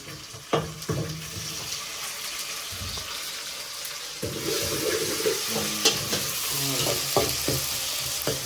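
Masala spices fry in oil in a pan in a small home kitchen, a steady loud sizzle broken by repeated scraping stir strokes of a spoon, close by with no talking.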